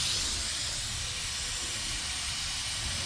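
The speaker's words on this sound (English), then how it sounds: "I just put this little tool to get the air out of the tires" Air hisses out of a Corvette tire through a small valve tool, a steady loud close hiss that holds without a break.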